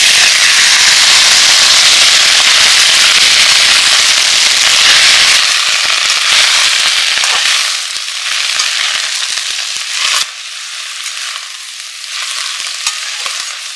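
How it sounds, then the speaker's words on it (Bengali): Cauliflower greens and nigella seeds go into hot oil with chillies, setting off loud, dense crackling and spitting that dies back to a quieter steady sizzle with scattered pops. "এবার আমি কালো জিরেটা দিয়ে দিচ্ছি এবার আমি শাকটা দিয়ে দিচ্ছি"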